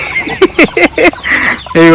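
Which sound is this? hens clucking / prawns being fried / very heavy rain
hens clucking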